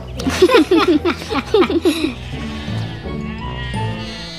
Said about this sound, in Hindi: अरे सुनो गोपाल, तुम्हारी बकरी कैसी है?